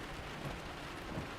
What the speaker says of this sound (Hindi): लेकिन बारिश हो रही है।